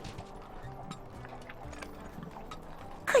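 A horse's hooves clip-clop in the fantasy online game Lord of the Rings Online, a light, quick, fairly quiet patter under soft game ambience, ending with a brief louder burst.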